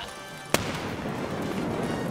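A grenade goes off in the shooter game Escape from Tarkov: one sharp, loud blast followed by a dense, rumbling roar that carries on for the rest of the moment.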